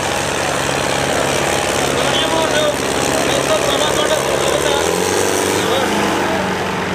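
A tractor engine roars loud and steady at a village rural sports fair tractor contest in Akalpur, a continuous mechanical drone with crowd noise mixed in and shifting pitch near the end.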